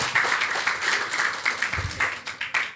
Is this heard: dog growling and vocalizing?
no